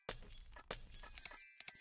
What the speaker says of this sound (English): A lot of smashing sounds. Smash, smash,